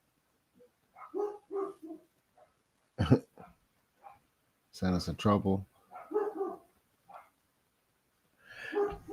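A few sharp dog barks burst out in short clusters between stretches of a person talking nearby.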